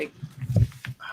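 A sleepy puppy lets out soft, brief whimpers and snuffles close by, mixed in with people talking quietly in a kitchen where charcuterie is being sliced.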